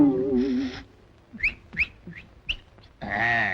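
Several short, rising whistled chirps from a person, spaced irregularly through a quiet comic scene, set between two stretches of talk at the start and end.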